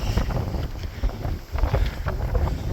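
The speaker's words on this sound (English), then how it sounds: "there's clouds, there's wind, and the wind is not going directly in back of me, in front of me anyways" Wind sweeps steadily across an open desert trail in the Soldier Pass area, a loud continuous rushing and buffeting that gusts and dips, striking the microphone from the side with no voices.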